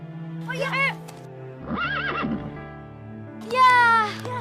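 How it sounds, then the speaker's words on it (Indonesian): A wild horse whinnies in short, loud, quavering neighs out in the open, with three separate calls spaced a second or two apart over a low steady hum. "Itu tuh kudanya."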